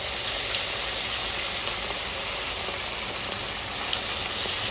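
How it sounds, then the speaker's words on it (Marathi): Chicken lollipops fry in hot oil, a steady dense sizzle and crackle that stays even and close throughout, with no voices. "हे बाकीचे पण उरलेले मी तळून घेते."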